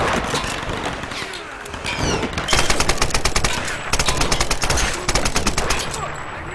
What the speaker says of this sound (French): Mitrailleuse tout de suite, hein.